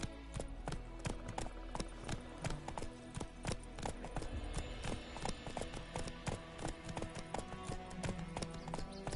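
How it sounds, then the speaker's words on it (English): Horse hooves clip-clop steadily in The Witcher 3: Wild Hunt, a rapid even rhythm of sharp, close taps, some busier stretches suggesting a trot, over a faint game backdrop. "Whoa there, Roach"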